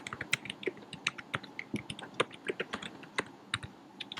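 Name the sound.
typing on a computer keyboard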